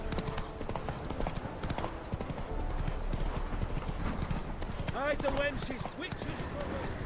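Steady clip-clop of horse hooves from The Witcher 3: Wild Hunt, a fast, even rhythm of close, moderately loud hoofbeats throughout, with voices talking briefly over it.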